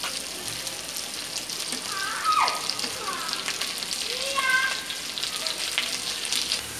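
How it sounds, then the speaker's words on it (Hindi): Onions for vegetable biryani sizzle and fry in hot oil, a steady close crackle with occasional stirring scrapes throughout. "और अब हम इसमें डालेंगे अपना प्याज।"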